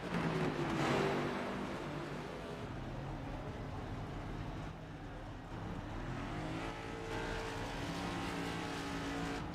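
Stock race cars roll down pit road during a Cup Series pit stop at Atlanta Motor Speedway, a steady wash of engine drone with a louder swell near the start and a low rumble underneath throughout.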